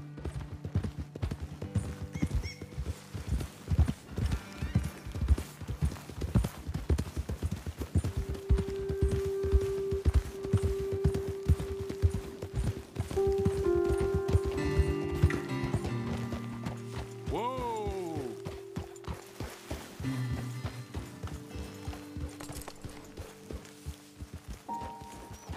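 Horses' hooves clip-clop steadily on a trail in Red Dead Redemption 2, a rhythmic run of hoofbeats with a whinny and in-game music rising partway through.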